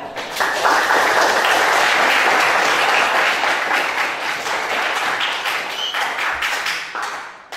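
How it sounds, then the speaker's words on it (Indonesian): A grade 12 classroom of students breaks into loud, steady applause, dense clapping that holds for several seconds before tapering off at the end. "Kita beri aplaus untuk kelas 12"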